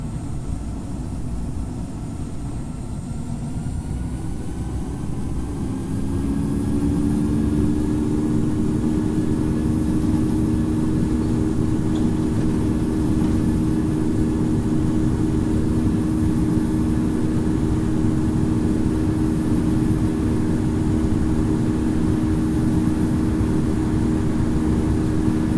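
Simulated jet engines of a Virgin Atlantic Boeing 787-9 spool up for takeoff from runway 04 Left in Infinite Flight, a continuous low roar that swells after several seconds into a steady, loud droning hum with rising tones.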